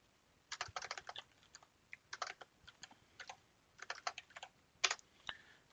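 Keys clatter on a computer keyboard in several quick, close bursts of clicks separated by brief pauses, with a few sharper single taps near the end, in an otherwise quiet room.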